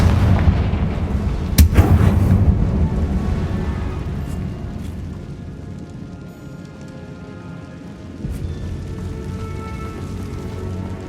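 Explosive fire-spell blasts in the Hogwarts Legacy game, a loud burst near the start followed by rumbling, crackling debris that fades, with another smaller blast later, no voices.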